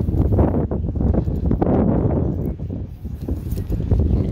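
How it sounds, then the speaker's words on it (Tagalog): Gusty wind buffets the microphone outdoors on a newly opened city boulevard of pavement blocks, a continuous loud low rumble that swells and dips throughout without a break. "Medyo mahangin na, so I'm not sure kung okay pa akong audio."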